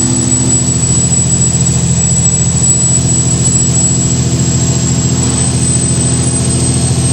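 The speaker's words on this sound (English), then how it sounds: "Can you guys hear the turbo?" Steady, loud truck engine drone with a thin high turbo whine held throughout, no pauses or revving changes, no voices over it.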